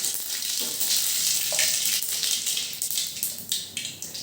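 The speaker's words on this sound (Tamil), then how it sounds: "எண்ணெய் சூடாயிடுச்சு. நம்ம கடுகு போட்டுடலாம் தாளிப்புக்கு." Mustard seeds sputtering and popping in hot oil for a Tamil-style tempering while a chilli chutney is made, a steady close sizzle with quick crackling bursts that sharpen toward the end, no voices.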